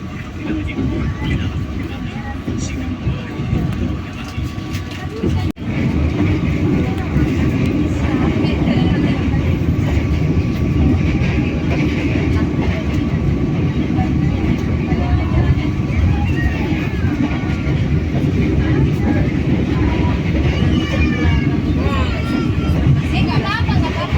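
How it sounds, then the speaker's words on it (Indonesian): The KA Matarmaja New Generation passenger train runs with a steady, continuous rumble and rail noise throughout, heard from inside, with a brief break near five seconds and a faint murmur of voices beneath. "kereta api Matarmaja akan tiba dan berhenti di stasiun Jati Barang"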